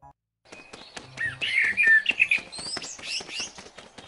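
A cartoon sparrow in a Hindi children's story chirps in quick, bright bursts, with several high tweets and trills close up over a quiet background.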